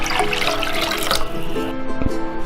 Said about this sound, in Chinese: 把它们倒到砂锅里面， 再加入2倍清水